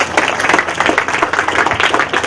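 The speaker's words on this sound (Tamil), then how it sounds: "எல்லாம் சேர்ந்து தான் கைத்தட்டேன்" A church congregation claps together at a feast Mass for Our Lady of Fatima, a dense, steady burst of many hands filling the space loudly, with no talk over it.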